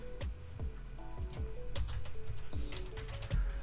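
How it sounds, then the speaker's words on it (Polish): Keys tapped on a computer keyboard while entering a confirmation code for a crypto exchange withdrawal, a steady run of close, crisp clicks in quick irregular rhythm with a few heavier strokes. "wpisujemy kod potwierdzający"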